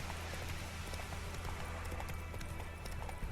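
Horse hooves clopping along a road in The Witcher 3 video game, a steady running clip-clop rhythm under continuous game ambience at an even level.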